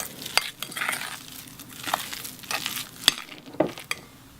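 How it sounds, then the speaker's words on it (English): Chopped vegetables, spring onions and lemon zest mixed together in a bowl, with soft wet stirring and several sharp clinks of a utensil against the bowl, close and steady. "I'm just going to mix that all together just to combine all those ingredients together"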